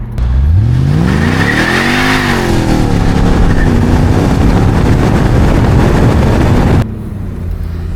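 A Mercedes W202 C43 engine accelerating hard on a test drive after a limp-mode and throttle-lag fix, revs sweeping up then settling into a loud sustained roar with heavy wind noise before cutting off near the end.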